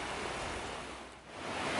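Steady broadband roar of ocean surf at Jockey's Ridge sand dunes state park, washing continuously with a slight dip and swell, no voices.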